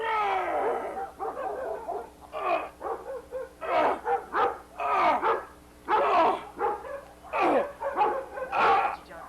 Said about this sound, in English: It looks like just some dog activity.